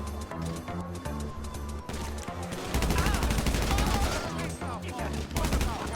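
Rapid gunfire in the open-world game Grand Theft Auto Online, dense overlapping shots in fast bursts over a continuous game soundscape, loud and close.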